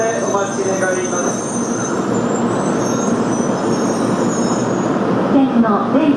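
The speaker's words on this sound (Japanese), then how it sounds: "電車が止まるまでお待ち願います。" A Shinkansen train rumbles steadily alongside the platform at Mikawa-Anjo Station with a faint high wheel squeal, loud and close throughout.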